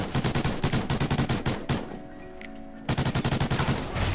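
Rapid bursts of automatic gunfire from a Call of Duty match crackle in quick regular volleys, pause for about a second, then resume in a second rapid string, fairly loud and without talk.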